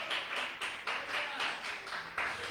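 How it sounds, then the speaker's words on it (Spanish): A church audience claps during a Christmas sermon, a moderately quiet rhythmic applause in steady pulses heard from a slight distance with no talking over it. "Dele fuerte ese aplauso al Rey."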